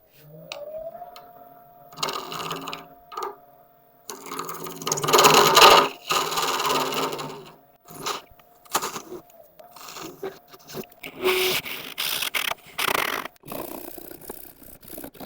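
Lathe tool cutting a spinning turning resin blank and throwing off shavings: bursts of scraping, rasping cuts with a faint motor whine, stopping and restarting in uneven stretches.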